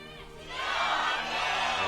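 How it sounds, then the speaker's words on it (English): Jin Air Green Wings fans cheer inside a League of Champions Korea esports arena at the start of a match. The crowd roar swells from a murmur into a loud, sustained wave of shouting and cheering. "So the chorus of cheers for Game 3."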